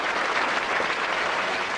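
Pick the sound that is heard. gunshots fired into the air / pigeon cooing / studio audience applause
studio audience applause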